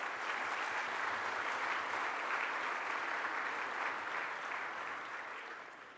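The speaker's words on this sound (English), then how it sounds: "I think that deserves another warm round of applause." A conference hall audience at the 2018 IATA ground handling conference opening gives a warm, sustained round of applause, dense and steady throughout before tapering off slightly at the end.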